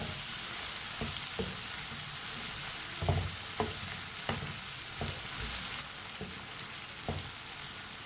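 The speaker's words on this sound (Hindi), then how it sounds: "2 मिनट के लिए टमाटर और सब्ज मिर्च को मैंने पका लिया है चम्मच चलाते हुए।" Tomatoes and green chillies frying in a pan for bhindi fry, with a steady close sizzle and a spoon clacking against the pan every second or so, no talk.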